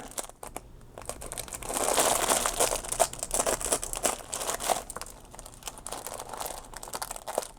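A plastic package of napkins being cut open: close, busy crinkling and rustling of plastic film with brief tearing crunches, fairly quiet and with no one talking.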